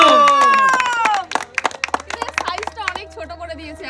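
A few people at home clap loudly in quick irregular bursts after a short stretch of talking, the sharp hand slaps close and distinct.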